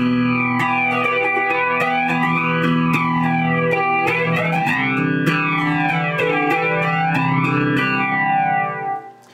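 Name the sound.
guitar through flanger effect pedal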